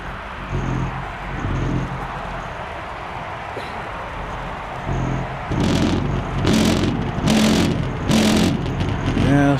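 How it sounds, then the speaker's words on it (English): A motorcycle passes near an airport fence during plane spotting, its engine note rising into a loud, revving pass amid steady background traffic rumble. "You got a motorcycle."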